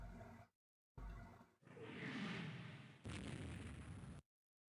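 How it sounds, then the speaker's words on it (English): Naval gunfire from 3-inch destroyer guns in the Rule the Waves 2 video game: several loud booming bursts and roaring blasts, separated by short silences. "Taking light gunfire from their destroyers"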